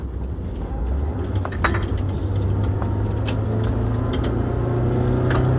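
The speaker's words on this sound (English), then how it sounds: "It runs really slowly when I try to go uphill in fourth gear." A car engine labouring uphill in fourth gear, not pulling, drones as a steady, loud low rumble, with faint intermittent clicks and knocks over the top.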